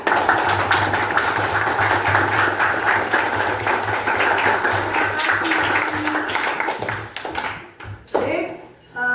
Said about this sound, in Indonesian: Luar biasa, tepuk 3 kali. Sangat luar biasa, tepuknya panjang.